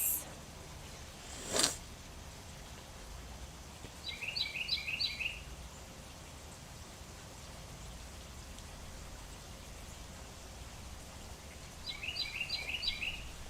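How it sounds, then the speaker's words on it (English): Birds chirp outdoors in two short, quick bursts of trilling calls, faint and some distance away, set against a steady hiss of ambient noise with one brief thump early on. "Can y'all hear the birds?"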